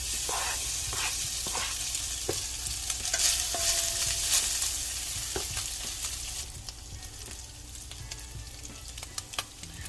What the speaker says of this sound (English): Next, I have some hot and spicy spam. I'm going to go ahead and saute those.